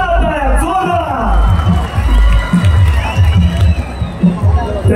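A huge crowd at a political rally for a statue inauguration cheers and whoops, a loud, continuous roar of voices and shouts with a booming amplified voice over it.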